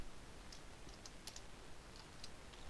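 Computer keyboard typing while entering SourceMod/SourcePawn plugin code, a quiet run of scattered light key clicks in irregular bursts, close and faint, with no voices.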